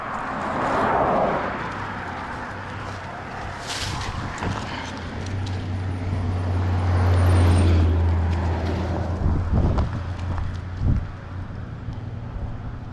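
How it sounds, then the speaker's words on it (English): Several cars swish past one after another on a quiet backroad outside Lewiston, Maine, in fall, a broad tire-and-engine rush that swells up close and fades, over steady wind and outdoor ambience. "all of a sudden we got a whole bunch of cars coming"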